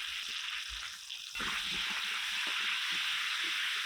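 Diced potatoes frying in hot mustard oil give a loud, continuous close sizzle and hiss, which swells noticeably partway through and then holds steady.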